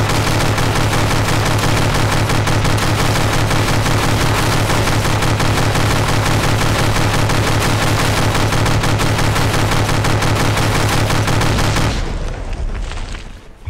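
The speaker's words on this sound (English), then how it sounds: "So there's a small explosion," A clipless autoloader's ammunition explodes in a long, relentless burst of rapid popping blasts, loud and continuous like gunfire, then cutting off abruptly into a fading rumble.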